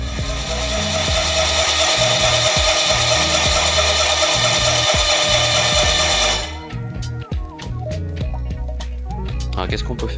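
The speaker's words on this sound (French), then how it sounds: "avec une perceuse," A power drill spinning the engine of a Bébé Jodel light aircraft under restoration: a loud, steady whirring drone for about six seconds that abruptly stops, leaving scattered mechanical clicks and rattles.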